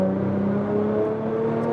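A Nissan GTR strains at full throttle in fourth gear on a dyno, a steady loud engine drone with a slowly rising pitch as the revs climb, heard up close without talk.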